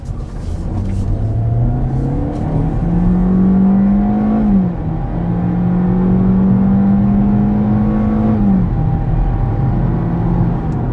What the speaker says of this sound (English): let's see how the new CVT or IVT accelerates